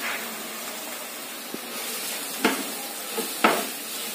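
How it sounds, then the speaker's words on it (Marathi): Radish thecha sautéing over low heat in a pan gives a steady soft sizzle, broken by three or four brief spoon scrapes near the end, close and fairly quiet, with no voices. "आता ह्याला आपण परतून घेतो"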